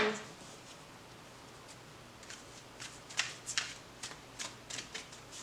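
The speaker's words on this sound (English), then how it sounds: "These cards shuffle really nice." A tarot deck is shuffled close up, a soft papery riffle followed by a run of quick, crisp card snaps and flutters over faint room noise.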